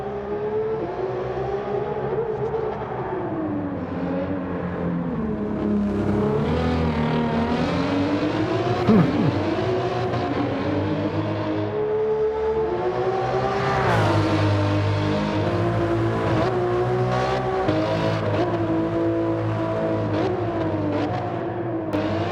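1997 Toyota Supra RZ in the Gran Turismo 7 racing game, its engine climbing and falling through repeated revs and gear changes over a steady run, loud and close with no talk.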